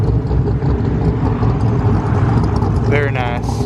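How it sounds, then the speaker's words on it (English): A 1600 hp twin turbo Lamborghini Aventador built by Underground Racing, loud close engine rumble idling and rolling past at a cars and coffee meet, with someone talking over it and a brief rising whine near the end. "Okay, so this is the underground racing twin turbo Aventador."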